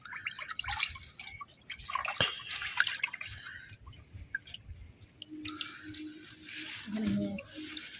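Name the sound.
wading into knee-deep water in a vegetable field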